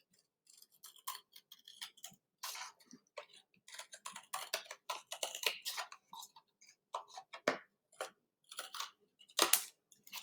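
A tool slicing through a clay slab along marked lines while building a ceramic slab box, heard as a close run of short, crisp scraping ticks and drags in irregular bursts, with no talking.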